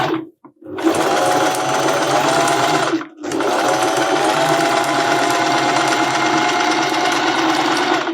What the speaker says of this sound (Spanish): Pulsamos la tecla de retroceso y cosemos. La máquina va hacia atrás y en cuanto soltamos vuelve hacia adelante.